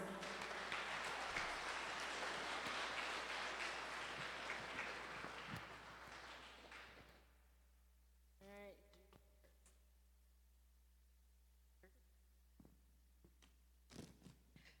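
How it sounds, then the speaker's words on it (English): A school concert audience applauds loudly for several seconds, then the clapping fades into a quiet room with a few scattered voices and knocks. "All right, let's clap for the sophomores."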